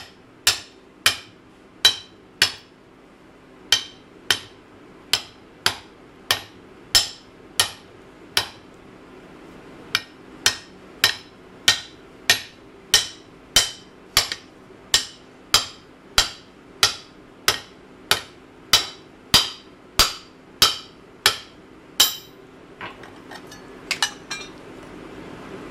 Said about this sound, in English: Just keep pounding.